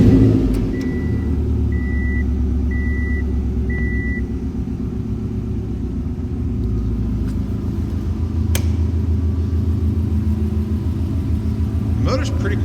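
A 2007 Subaru STI engine turns over and settles into a steady, low rumbling idle that carries on close by, with a few short electronic beeps early on and a sharp click partway through.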